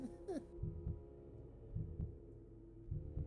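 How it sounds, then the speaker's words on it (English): Low, throbbing heartbeat ambience from a giant god's rotting heart in a Dungeons & Dragons Vecna session, with soft thuds repeating in slow pairs roughly every second under a steady hum. "Does the heartbeat change tempos if I change the ambience?"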